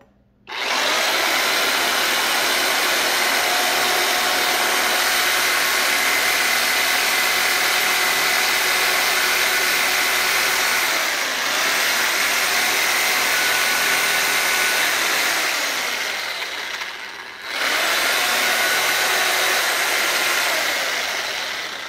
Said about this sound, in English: this is old Harbor Freight Sawzall